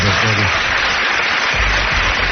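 A studio audience claps in a dense, sustained burst while a voice talks over it.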